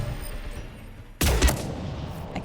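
A burst of rapid gunfire from Mass Effect 3, bursting in loudly after a second of quiet background and rattling on with a few sharp peaks, close and unaccompanied by talk.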